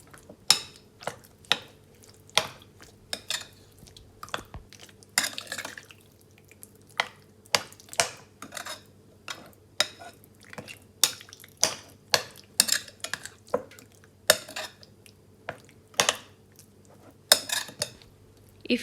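A spoon taps and scrapes steadily around a bowl as mild Madras curry powder is mixed with other ingredients, a quick irregular run of small clicks and knocks lasting the whole stretch, close and fairly quiet with no talking.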